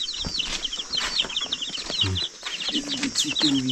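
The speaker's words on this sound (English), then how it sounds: "So these are the chicken." Kienyeji chickens of mixed colours cluck and call close by on a farm, a busy overlapping chorus with a few short sounds that may be wingbeats. Faint voices sit in the background.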